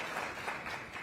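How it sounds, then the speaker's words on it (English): Audience applause at a college presidents' town hall event, a steady broadband wash of many hands clapping at moderate level with no talk over it. "Yes, that deserves an applause."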